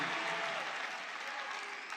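A large political rally crowd claps and cheers in a dense, steady wash of applause, sounding broad and somewhat distant throughout.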